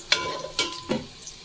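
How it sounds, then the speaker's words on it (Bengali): Onions frying for biryani beresta in a pan, a soft steady sizzle with three sharper stirring scrapes spaced across a short stretch, close and moderately loud. "পেঁয়াজ বেরেস্তা আমি করে নিচ্ছি"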